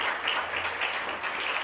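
A congregation applauds during a church service, a steady, fairly faint patter of clapping that runs through the short clip with no breaks.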